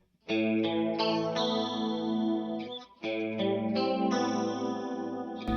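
Delicate electric guitar part played through a Suhr Woodshed Comp compressor pedal, ringing sustained chords and single notes with a short gap mid-phrase, clear and up front with no talking.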